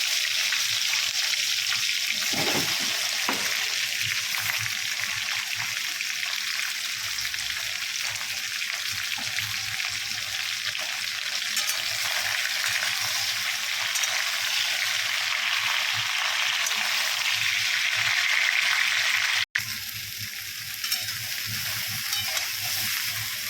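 Shrimp and mixed vegetables frying in a pan give a steady, close sizzle that runs unbroken for the whole stretch, with a few brief clatters early on and a short dip near the end.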